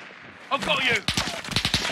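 Gunfire in Call of Duty Warzone, a series of quick sharp shots in irregular bursts, mixed with a spoken voice.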